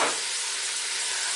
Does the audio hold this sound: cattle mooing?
no